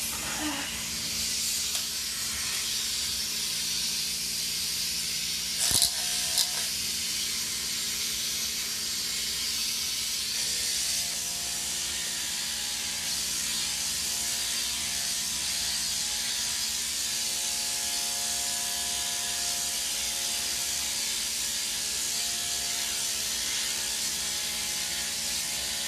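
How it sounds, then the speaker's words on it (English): Electric clippers with an extra-wide blade run steadily while grooming a dog's flat-lying fur, a continuous close buzzing hum that lasts throughout with small shifts in tone. "The clipper back, I think, is preferable on this type of fur that lays a little bit flatter."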